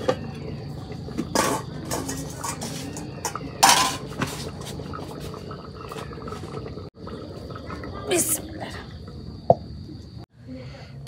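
Pot clatter and metallic clanks as a chicken and new potato curry is handled on the stove, with intermittent knocks of metal against metal over a low background hum.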